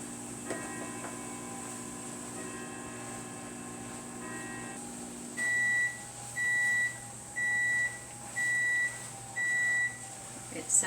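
A microwave oven finishes heating wraps: a steady hum runs, then stops, and five evenly spaced, moderately loud beeps follow in a regular rhythm.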